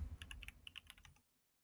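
Quick bursts of keystrokes on a computer keyboard, a dozen or so clicky taps in an uneven rhythm, close and clear, then stopping into quiet.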